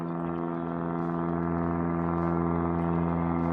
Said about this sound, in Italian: l'idrovolante in decollo.